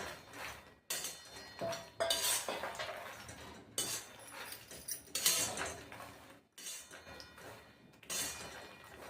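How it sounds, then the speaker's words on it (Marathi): Makhana (fox nuts), 150 grams, dry-roasting in a pan for dry fruit ladoo, giving repeated light clinks, rattles and scraping as the nuts are stirred and tossed, close and fairly steady with brief pauses. "आता आपण यामध्ये मखाना भाजून घेऊ हा दीडशे ग्राम मखाना आहे तर पूर्ण मखाना भाजून घ्यायचं आहे चांगला"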